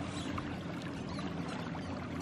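Water flows and splashes steadily at a low level, a soft continuous burble with faint higher trickling, no voices.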